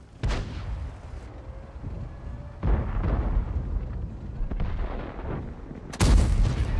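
Heavy artillery booms in the World of Tanks game, on the Mines map: about four loud, close blasts, each rolling off into a rumbling tail, spaced a couple of seconds apart.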